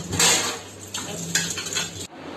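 After a meal, dishes and utensils are washed up, with metal cutlery and pots clinking and clattering against each other over running water, close and fairly loud.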